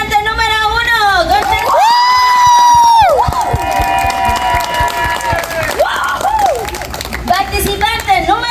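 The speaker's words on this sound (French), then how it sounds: "we're gonna decide who's gonna be the winner by clapping" A group of children in a classroom setting cheering, shouting and clapping loudly to vote for a contestant, bursts of excited high voices and applause swelling and fading, with an adult voice talking among them.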